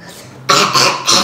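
Someone coughs in a rapid run of three loud, harsh bursts close to the microphone, following a quieter faint rasp at the start.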